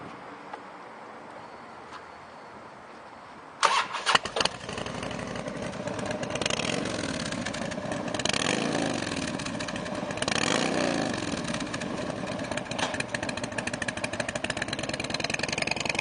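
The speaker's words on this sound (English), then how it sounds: "We're going to fire it up so you can see how she sounds." A 2001 Harley Davidson Road King Classic FLHRCi cranks and fires after a few quiet seconds, then settles into a loud, close, lumpy idle with a couple of throttle swells and no talking.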